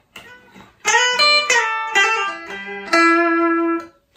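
A Bacchus Universe series Stratocaster-style electric guitar on its bridge pickup rings out in a handful of close, bright picked notes and short chord phrases, played alone with no talking.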